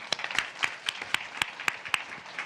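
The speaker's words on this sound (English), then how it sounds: "let's give Henry a round of applause for being brave" A conference audience at CIMM East 2025 gives a short round of applause, with a few distinct hands clapping in a quick, fairly even rhythm close by and no speech over it.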